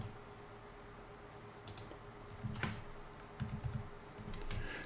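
Keys tapped on a computer keyboard while navigating an Excel worksheet, a few light scattered clicks at close range over a quiet background, with small bursts of two or three strokes.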